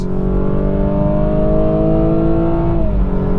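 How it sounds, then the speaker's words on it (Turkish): A 245 hp all-wheel-drive BMW 428i in Sport Plus mode accelerates at full throttle on a road to Munich Airport, its engine note rising steadily and loudly from inside the cabin before briefly dropping near the end. "Dip gaz yaptım ve yürüttüm."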